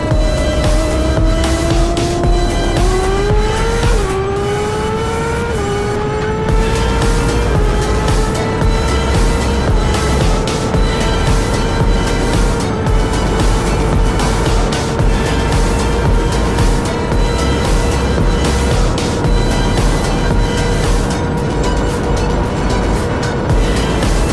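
Several race cars driving in a race, their engine tones rising and shifting as they run together, a loud continuous roar with overlapping motor notes and no talking.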